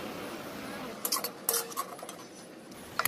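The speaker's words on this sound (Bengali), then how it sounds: "এভাবে বাটিতে তুলে নেওয়া হয়ে গেল" Cooked dheki greens served from the pan into a bowl, heard as a few close metal spoon scrapes and clinks against the pan, with a soft background hiss and no talking.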